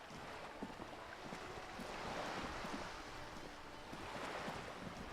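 Steady, rushing water waves wash continuously at a soft level in the Disco Elysium video game, with a gentle swell in the middle and no talking.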